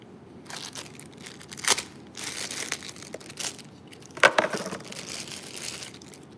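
Plastic crinkles and rustles in bursts as quarter-sized parts for a 1968 Chevrolet C10 are pulled from a bag, with a few sharper crunches, close by.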